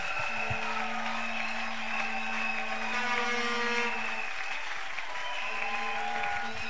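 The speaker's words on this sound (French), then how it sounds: "Quelqu'un peut-il acclamer très très très bien?" A church congregation at a prayer service claps in sustained, dense applause that stays loud and even throughout, with steady held tones ringing underneath.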